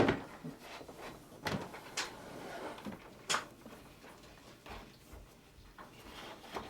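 A drawer slides open with soft, scattered knocks and thumps, faint and close in a quiet room.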